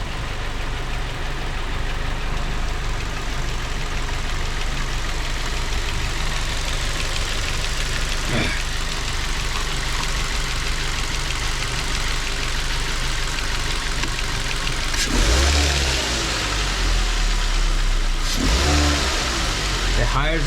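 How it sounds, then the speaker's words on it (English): A 2006 Ford Focus engine runs steadily and is revved up, its mechanical hum continuous throughout, with sharper bursts of noise and handling near the end. Speech can be heard partway through. "if I give it some RPMs to the engine"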